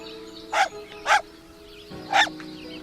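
Moti, a dog living near a house, gives three short sharp barks, two close together and then a third after a pause, sounding fairly close over a low steady background hum.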